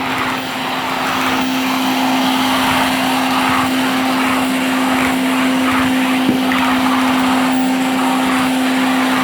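A Typhoon vacuum cleaner runs steadily and loudly on a carpet with a constant whine, its pitch wavering slightly as it moves over the surface.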